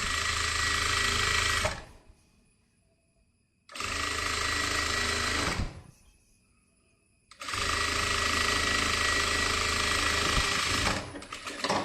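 Sewing machine stitching a kurti neckline in three loud, continuous rattling bursts of about two to four seconds each, separated by short quiet pauses.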